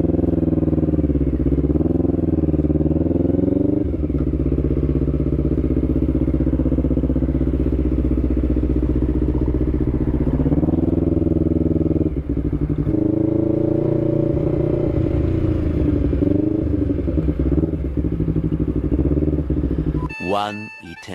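Motorcycle engine on a touring ride, running loud and close with a steady drone that rises and falls through gear changes, over a constant rumble and some clatter near the end.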